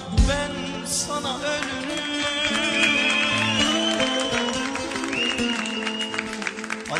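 An audience claps after a Turkish love song on a TV variety show, steady applause mixed with lingering music tones, loud and sustained for several seconds.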